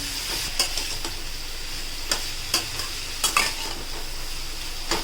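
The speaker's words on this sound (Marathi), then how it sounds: "आता आपण कंटोळी चांगले मिक्स करून घेऊयात कांद्यामध्ये" Kantola, spiny gourd, being stirred into frying onions and chillies in a pan, a constant near sizzle broken by a handful of sharp metallic scrapes and clinks from the spoon, no voices present.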